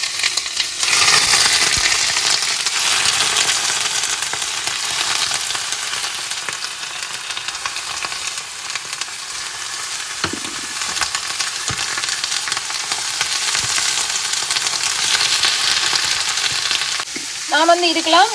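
Goat liver pieces fry in a pan with sautéed onions, giving a loud, dense, continuous sizzle close up with occasional stirring scrapes, running unbroken throughout with no talking.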